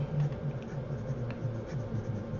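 Pilot Custom 74 fountain pen with a fine nib writing on paper, soft close scratching strokes in short irregular bursts with brief pauses between them.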